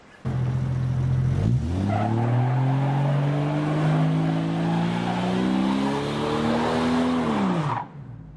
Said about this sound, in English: Thank you for doing an epic skid as well.